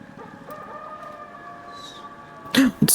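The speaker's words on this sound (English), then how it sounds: "I heard the rooster crowing." A rooster crows in the video game Palia at 3 a.m. in-game, a short, loud burst near the end that rises above a quiet ambient background with a faint steady tone.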